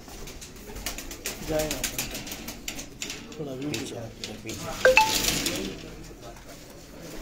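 Pigeons coo now and then at a shop, faint and intermittent beneath steady conversation, with a brief clink of metal near the middle.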